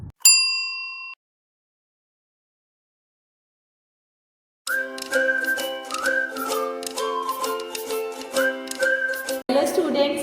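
Short bright notification bell ding rings out once alone, followed by silence and then a tinkling melodic jingle.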